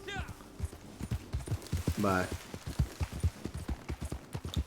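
Criollo horse hooves clip-clopping steadily in Red Dead Online, a rhythmic series of close hoofbeats under someone talking, with a brief whinny midway.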